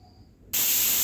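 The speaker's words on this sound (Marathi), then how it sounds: "इथे आपली 1 शिट्टी झालेली आहे." A pressure cooker whistle bursts in suddenly after quiet, a loud, sustained hissing blast of escaping steam that holds steady to the end.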